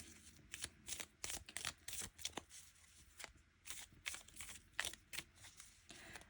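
Paper savings challenge cards for a Christmas box challenge being riffled and shuffled in the hands, a quick run of crisp flicks and soft slaps, close and fairly quiet.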